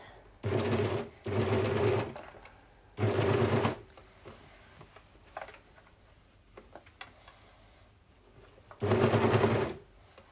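A sewing machine stitches a dress while the fabric is gently stretched, running in four steady bursts of rapid close whirring with quieter handling and fabric rustle between them.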